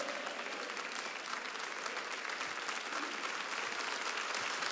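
A church congregation applauds during a sermon, a steady, dense wash of clapping that holds evenly for several seconds at moderate distance.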